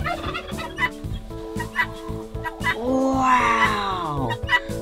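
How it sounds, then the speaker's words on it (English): Loud poultry calls fill a chicken coop, a run of squawking, warbling clucks and rising cries from nearby birds with short pauses between them. "Wow, look at that chicken."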